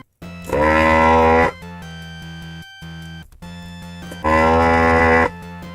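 A soldering station used while installing an NESRGB mod in an NES top loader gives off a loud, bleating electronic buzz. It comes in two long, strong bursts with a quieter steady hum between them, and no voices are heard.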